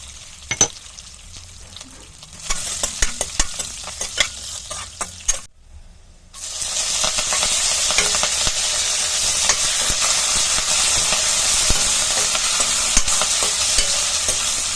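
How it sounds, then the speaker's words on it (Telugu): Garlic, dried red chillies and curry leaves fry as a tempering for chutney: scattered spoon clicks and light crackles at first, then after a brief pause a loud, steady, close sizzle that continues unbroken. "ఎండుమిర్చి అండ్ కరివేపాకు ఇవన్నీ మంచిగా ఫ్రై చేసుకుంటే మీకు తాలింపు రెడీ అయిపోతుంది"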